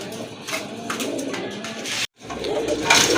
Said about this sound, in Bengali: এই যে দেখেন ডাকাডাকি কিন্তু অলরেডি শুরু করেছে